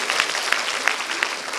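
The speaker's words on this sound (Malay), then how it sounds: "Tepuk tangan sikit." An audience at a talk gives a brief, modest round of clapping, a soft steady patter heard at a distance with a few sharper claps standing out, and no voices over it.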